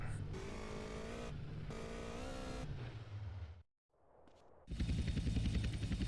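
Sanchez dirt bike in GTA San Andreas, its engine droning steadily with shifting pitch, cutting out briefly near the end before roaring back loud, with a helicopter nearby.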